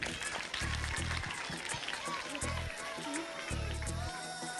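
Studio audience applause on an Onam special TV quiz show, rewarding a correct answer: a steady, dense wash of clapping mixed with voices and background music, loud and continuous throughout.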